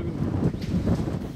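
Gusty storm wind in Noakhali during a Bay of Bengal low-pressure system, a steady rumbling roar buffeting the microphone with surging gusts, loud and close with no voices.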